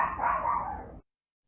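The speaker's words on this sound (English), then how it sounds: "just hold on one moment for my crazy dogs" Several house dogs bark together in one short, loud, close burst lasting about a second, then cut to silence.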